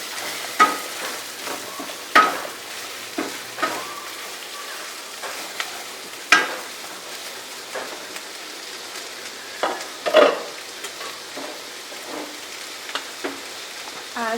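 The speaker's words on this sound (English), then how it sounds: "so it will fry with onion" Onions fry in a pan with a bay leaf for a chicken masala, a steady soft sizzle broken by several sharp stirring scrapes and clinks at irregular intervals, close and fairly quiet, with no talking.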